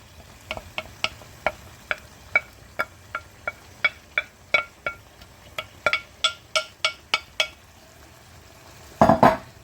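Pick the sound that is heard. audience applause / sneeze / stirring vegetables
stirring vegetables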